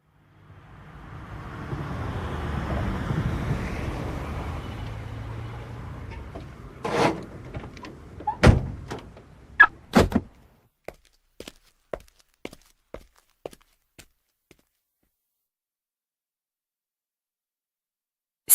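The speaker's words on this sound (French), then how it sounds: "C'est une personne qui sort de sa voiture dans un parking." A car in a parking lot: a low engine rumble fades, then a car door clunks shut, followed by a series of sharp knocks that grow fainter and stop.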